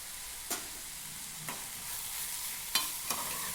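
Vegetables frying with turmeric and salt being stirred in a pan for poori bhaji, a steady sizzle broken by a few sharp scraping clinks of the spoon against the pan.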